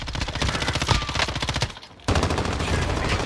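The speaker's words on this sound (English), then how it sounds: "I'm getting shot from both sides." Rapid automatic gunfire in the Warzone video game, loud, dense bursts of shots that briefly cut out near the middle and then resume just as hard.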